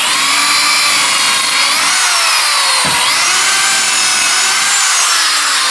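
A power drill bores a pocket hole into a clamped walnut board, giving a loud, continuous whine that rises and falls in pitch with a brief dip midway.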